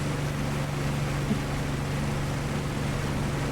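A piston aircraft engine in a WWII flight combat game, a steady, droning low hum with a constant tone and no change in loudness across the few seconds.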